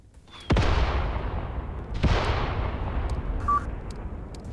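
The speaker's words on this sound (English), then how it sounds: "That's the enemy artillery. Enemy artillery is targeting us." Enemy artillery fire in the Graviteam Tactics Mius war game: two heavy booming impacts roughly one and a half seconds apart, each with a long rumbling decay, over a low, steady battlefield background.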